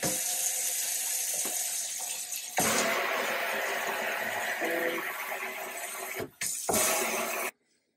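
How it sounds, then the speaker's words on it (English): Kitchen sink faucet in a house under inspection runs steadily with a broad rushing hiss, water pouring and draining, briefly cutting out twice near the end before stopping abruptly. "we're going to be operating the sink, testing the drain, and making sure that all the items here are functioning"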